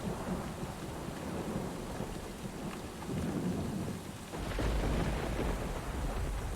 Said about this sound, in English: Can't hear shit in the storm.